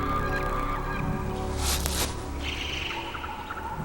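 Varied, chattering bird calls in a film's prehistoric underground jungle, a dense layered chorus with a brief louder burst partway through, set against a steady low ambient rumble.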